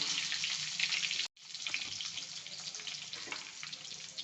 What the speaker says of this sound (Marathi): थोडे खाली वांग्यांना तेलात आणि आपला जो राहिलेला मसाला आहे ना तो पण आपण तेलातच टाकणार आहोत